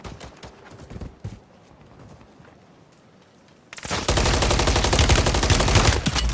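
SMG fire in Warzone 3: scattered shots early on, then a loud, sustained rapid-fire burst that runs close and continuous through the final seconds.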